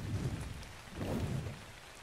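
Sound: rain in the video game ARK

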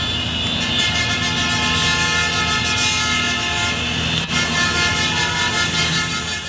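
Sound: motorized procession of cars, motorcycles and trucks honking

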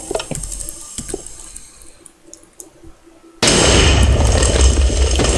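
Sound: cannon firing in the video game Minecraft

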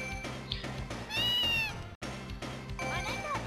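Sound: cat meowing in a video game

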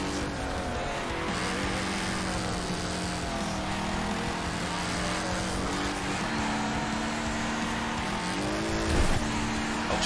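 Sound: race car engine behind player in Wreckfest video game

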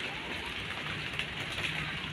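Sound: rain falling

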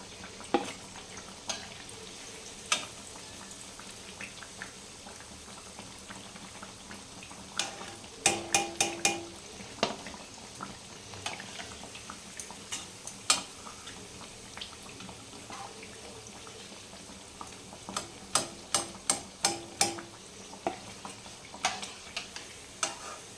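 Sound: cabbage fritters frying in oil

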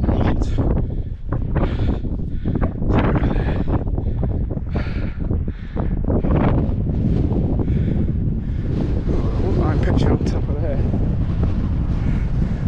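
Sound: strong wind on a hilltop

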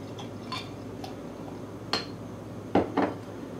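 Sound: Terrapin coffee oatmeal stout bottle opened and poured into glass

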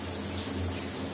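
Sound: shower water running

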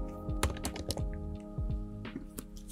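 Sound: typing an activation key on a keyboard

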